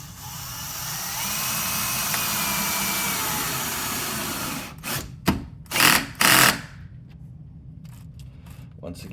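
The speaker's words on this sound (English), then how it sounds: "let's go ahead and put this bigger screw in" A power driver spins a longer screw through a door hinge into the jamb with a Craftsman bit, a steady mid-pitched whir for several seconds that then breaks into short, loud bursts as the screw seats tight.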